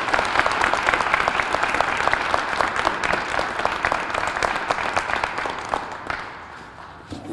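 A press-conference audience for the Camden mayor breaks into loud, sustained applause, crisp dense clapping that holds steady before tapering off near the end.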